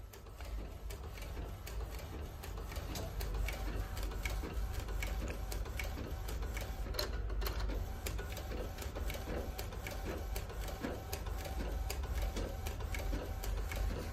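A modified Epson ET-8550 or L1800 inkjet printer prints onto a roll, running steadily with a constant mechanical whir and rapid ticking of the print head shuttling back and forth.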